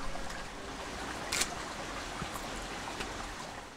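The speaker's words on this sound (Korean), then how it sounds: "그래서 추억의 저편에 있는 도랑 소리를 이곳에서 듣게 되네요." Water running through a small ditch between houses in a Busan hillside neighborhood, a faint continuous trickling wash with a brief brighter splash, no voices.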